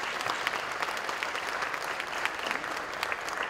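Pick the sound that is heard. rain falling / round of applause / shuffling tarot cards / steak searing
round of applause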